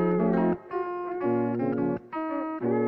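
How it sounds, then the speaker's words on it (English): A slightly pitched-down music loop plays on its own, a clear sustained tonal phrase of several held chords or notes with short breaks between them, moderately loud and without voices. "I'm gonna be using a loop called Villa from my sample library volume 2"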